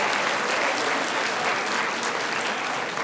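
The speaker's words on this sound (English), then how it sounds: "Give them a round of applause for being stunningly brilliant" A graduation audience at Dymally High School applauds in a thick, continuous roar of many hands clapping, even and sustained throughout.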